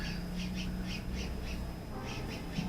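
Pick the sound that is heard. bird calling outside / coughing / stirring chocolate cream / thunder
bird calling outside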